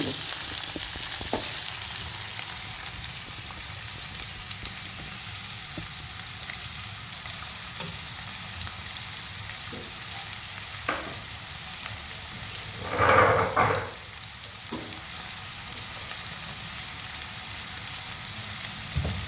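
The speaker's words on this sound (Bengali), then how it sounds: "এখানে আমি পেঁয়াজ দিয়ে দেবো বিসমিল্লা পেঁয়াজটাকে আমি ভালো করে ভেজে" Onions frying in hot oil for duck pilaf hiss softly and steadily, with a short louder crackling burst partway through.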